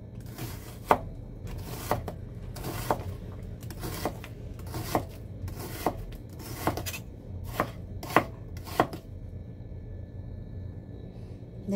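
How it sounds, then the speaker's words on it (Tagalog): An onion is sliced with a knife on a board, about a dozen crisp chops spaced roughly a second apart. They sound close and moderately loud over a quiet room background. "Hiwain po natin ang ating sibuyas"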